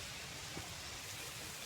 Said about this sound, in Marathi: पाऊस येतोय.